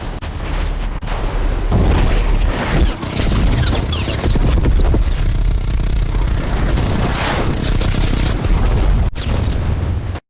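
Russian naval rotary gun firing at 10,000 rounds per minute, loud continuous buzzing roar of extremely rapid fire in long sustained bursts with brief breaks and heavy booming low end.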